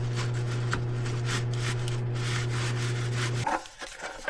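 Scrubbing on the back side of a motor cable connector, a steady close rubbing with a constant motor-like hum under it for about three and a half seconds, then a few brief irregular scraping sounds.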